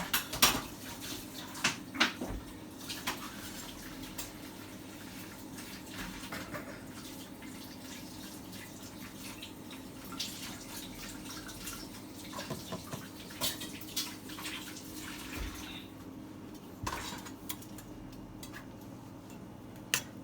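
A spoon gets washed at a kitchen sink, with scattered clinks of metal against dishes and a soft bed of running water, the sharper taps coming in irregular bursts.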